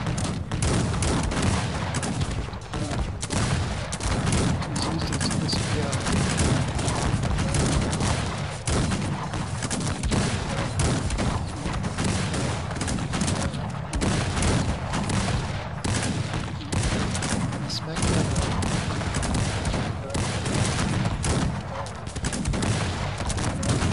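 Massed musket volleys in the strategy game Cossacks 3, a dense, continuous roar of overlapping shots and booms from many soldiers, sustained and loud throughout.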